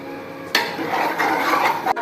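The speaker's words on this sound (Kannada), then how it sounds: "ನಾನು ಆಲ್ರೆಡಿ ತುಪ್ಪ ಹಾಕಿದ್ದೀನಿ. ಈಗ ಬೆಲ್ಲದ ಪೌಡ್ರ್ ಹಾಕ್ಕೊಳ್ಳೋಣ." Jaggery powder is tipped into ghee in a pan, setting off a sudden scraping, sizzling rush with clinks of a utensil against the pan, then a sharp knock at the end, all without talking.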